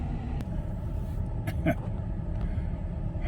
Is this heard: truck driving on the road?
yes